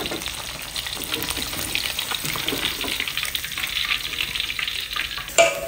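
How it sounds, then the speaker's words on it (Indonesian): Curly chilies stir-fried in hot oil sizzle and crackle steadily for several seconds, close and fairly loud, with a brief clatter of the utensil near the end. "Sekarang kita tambahkan minyak secukupnya aja ya. Terus kita tongseng lagi sampai benar-benar harum."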